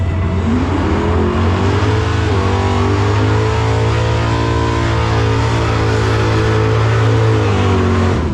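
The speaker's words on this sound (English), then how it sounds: "It is a 440 cubic inch Mopar motor." A drag racing car with a 440 cubic inch Mopar V8 drones loudly and steadily, rising in pitch as it revs and holding a heavy, continuous engine roar close by throughout.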